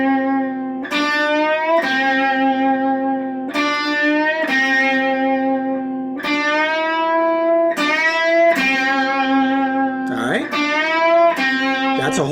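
A distorted electric guitar plays a series of sustained notes, each bent upward by a whole step, repeated in a steady, deliberate rhythm up close.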